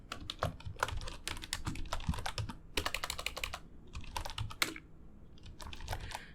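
Code being typed on a computer keyboard gives rapid, close clusters of key clicks in uneven bursts, with a short pause partway through and a few heavier key strikes.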